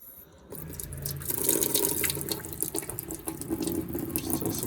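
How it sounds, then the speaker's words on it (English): Hot water gushes steadily from a boat's main freshwater faucet into a sink during winterizing, starting after a brief quiet moment and running loud and continuous with no talking. "main faucet, turn on my hot."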